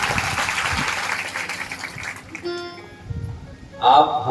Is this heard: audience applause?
yes